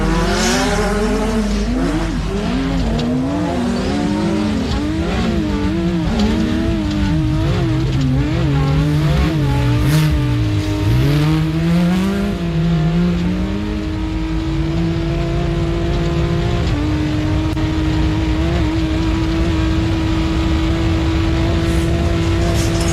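A race vehicle at a 4x4 off-road race blasts through a corner, its engine loud and close, revs rising and falling as it accelerates, then holding a steady high drone.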